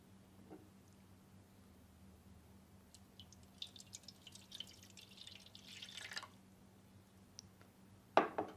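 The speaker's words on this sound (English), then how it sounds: "So I'm going to pour this displaced water into the pan here with a weighing scale." Displaced water trickles and drips from a container into the pan of a weighing scale, faint and intermittent, ending in a sharper splash or clatter near the end, with no talking.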